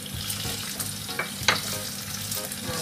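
Chicken pieces frying in hot oil in a wok, a steady moderate sizzle with brief clinks and stirring sounds, nearby and with no speech.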